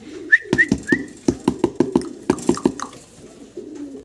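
Black Lahori pigeons coo nearby in low, rolling phrases, broken by a series of sharp clicks or taps and a few brief high whistles, all fairly loud and close.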